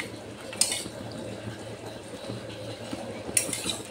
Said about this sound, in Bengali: এবার আমি যে পনিরের টুকরোগুলো জলে ডুবিয়ে রেখেছিলাম জল থেকে তুলে দিয়ে দিলাম।